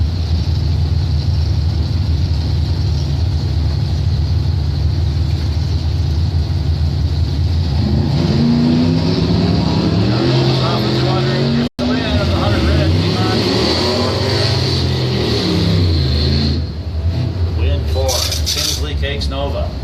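A 1966 Corvair drag car with a 406 small-block V8 races at a drag strip, its engine rising from a steady rumble to a loud roar under announcer-style talk.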